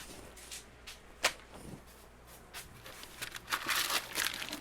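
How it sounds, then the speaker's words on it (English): Soft crinkling and rustling of a black plastic garbage bag, with a few sharper crackles and a louder burst of crinkling toward the end, fairly close. "kind of like it's a plastic bag"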